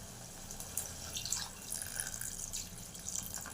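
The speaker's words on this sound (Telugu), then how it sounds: "ఇప్పుడు కొద్దిగా నీళ్ళు మళ్ళీ పోసుకుందాం." Water trickles and splashes into a pot of tomato rasam, a soft, steady pour with light drips and liquid sloshing, faint and close.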